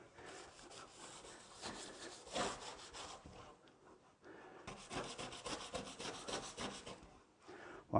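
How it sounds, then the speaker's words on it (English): Brush scrubbing built-up grime in a kitchen sink, two bursts of close rapid back-and-forth rasping strokes separated by a short pause. "You may also need the brush, you know, if there's been a bit of build up in here,"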